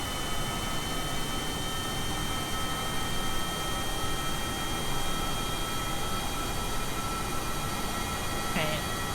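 An aircraft engine in a flight video game drones steadily and loudly throughout, a dense constant roar with a faint hum and no clear change in pitch.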